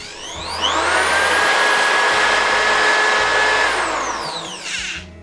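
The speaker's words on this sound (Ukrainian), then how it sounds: "підключимо шурупокрут і попробуємо, як він буде працювати. Ну, На малих обертах працює, поступово даю великі." A cordless screwdriver powered from an Apro portable charging station runs with no load, its motor whine climbing in pitch as the speed is raised, then holding loud and steady before winding down at the end.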